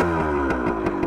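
A 1978 Kawasaki KE100, an old carbureted two-stroke trail bike, fires on the first kick and settles into a steady, close idle with rhythmic engine pulses and no talking.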